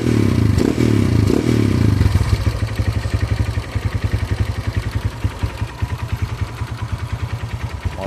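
A bored-up Mega Pro Mono single-cylinder motorcycle engine runs steadily close by, a loud, rapid, even thumping idle with some mechanical clatter and rattle throughout.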